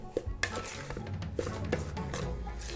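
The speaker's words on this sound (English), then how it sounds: "just keep mixing it through with the knife and it will probably start coming together" A knife scrapes and taps against a bowl while mixing pastry dough, steady close stirring with a few light clinks over a constant low background hum.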